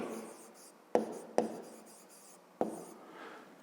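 A pen moves across paper while a fifth-grade math exercise is written out, a soft steady scratching broken by three sharp taps, close and quiet.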